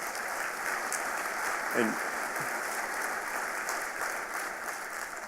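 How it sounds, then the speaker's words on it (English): At a State of the City address, the audience applauds for the mayor, steady moderate clapping spread across the room, with a brief voice cutting in near the middle. "One more round of applause for Mayor Lee, Mr. Cowell, and Superintendent Bishop."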